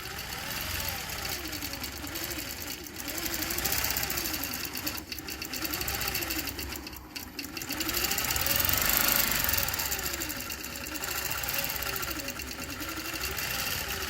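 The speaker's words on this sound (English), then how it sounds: "if you have an embroidery machine, you kind of know how fascinating it is watching it just move itself to do the stitching" An embroidery machine runs steadily through its stitching, a continuous mechanical whirr and rapid needle clatter with rhythmic swells in pitch as the hoop shifts position, close and moderately loud with no talk.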